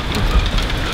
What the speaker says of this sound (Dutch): Het went hagelen.